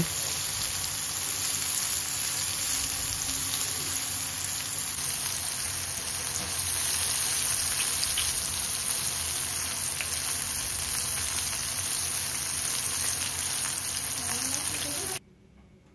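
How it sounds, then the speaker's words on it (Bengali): Chicken popcorn deep-frying in oil over low heat, a dense, even bubbling sizzle like steady rain that runs unbroken at moderate level and cuts off sharply near the end. "ব্রাউন কালার করে ভেজে নিব।"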